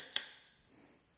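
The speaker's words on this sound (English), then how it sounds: "It also has a bell right here by my finger." One crisp ding from the handlebar bell of an Inokim Quick 4 electric scooter, bright and close, ringing out in a long, clean, slowly fading tone.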